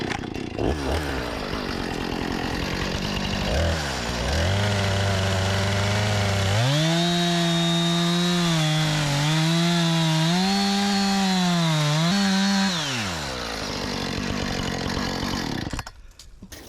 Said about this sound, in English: now we gotta plunge cut it from this side and do the exact same thing